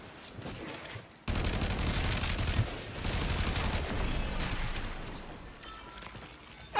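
Rapid, sustained gunfire from a PC shooter video game, with dense overlapping bursts that start abruptly after a quiet second and keep going loud and near for most of the clip.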